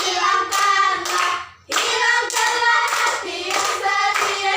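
Children in a second-grade classroom clap their hands in steady rhythmic bursts while singing a song, the claps loud and close and broken by one brief pause.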